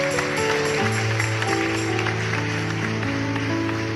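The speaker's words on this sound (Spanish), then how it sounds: "Un aplauso fuerte al Dios que vive." Church congregation applauding during a sermon, a loud dense wash of clapping heard over sustained organ or keyboard chords that keep playing underneath.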